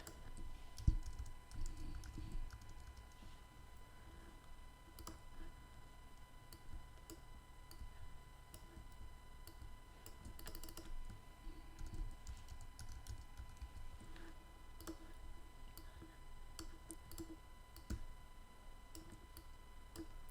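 Steady typing on a computer keyboard, with quiet, fairly regular key clicks continuing throughout over a faint background hum and no speech.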